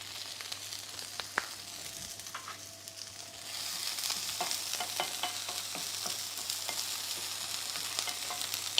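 Spring onion frying in hot oil in a pan, a sizzle that swells and stays steady, with scattered small clicks and stirring scrapes.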